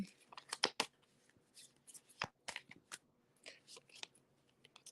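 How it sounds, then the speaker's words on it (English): Tarot cards shuffled by hand, quiet dry riffling and slapping in short irregular bursts with pauses between, close and alone without talk. "And I'll shuffle for the 2023 card."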